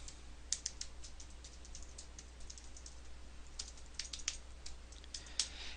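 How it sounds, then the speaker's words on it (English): Rapid, uneven keystrokes on a computer keyboard tap out in bursts against a low steady hum, close and moderately loud. "I'm having trouble typing today."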